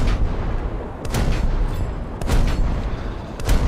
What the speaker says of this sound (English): detonation is always good to see